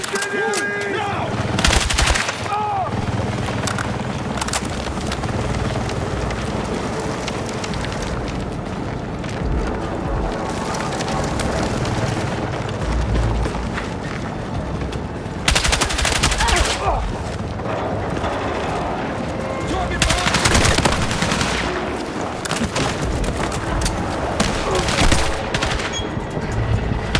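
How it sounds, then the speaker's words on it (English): Heavy gunfire in the video game Battlefield 6, sustained machine-gun bursts and rifle shots with occasional booms, loud and continuous under shouted voices. "Provide cover fire!"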